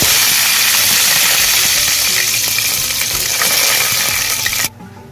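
Curry leaves crackle and sizzle loudly in hot oil with popped mustard seeds in a pressure cooker for a chicken curry, a dense continuous spitting hiss that cuts off abruptly near the end.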